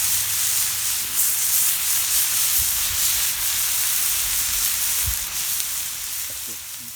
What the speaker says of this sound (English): Here you can hear the sizzling as I'm cooking it